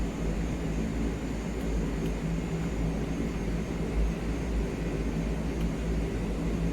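A CL-415 amphibious aircraft taxis in Microsoft Flight Simulator 2020, giving a steady, even engine drone that holds throughout at moderate loudness with no talking.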